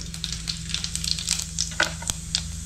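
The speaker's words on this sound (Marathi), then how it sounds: "तेल थोडा कमी केला आहे आणि त्याच्यामध्ये थोडासा जिरा टाकते" Cumin seeds crackle and sizzle in hot oil in a village kitchen, with rapid irregular pops and spits over a steady frying hiss and a low hum.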